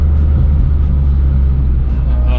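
Road traffic rumbles past on a slow day, a continuous low drone of cars close by without breaks.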